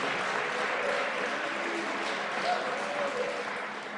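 Applause from a small indoor group during a tour of a mask distributor in Allentown, a soft, steady patter of clapping lasting a few seconds with a voice faintly heard over it.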